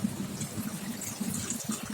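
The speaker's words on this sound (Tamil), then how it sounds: "தேவையான அளவுக்கு கொஞ்சம் தண்ணி சேர்த்துடலாம்" Water pours steadily into a pan of fish curry for a couple of seconds, a close, continuous low splashing and gurgling with no talking.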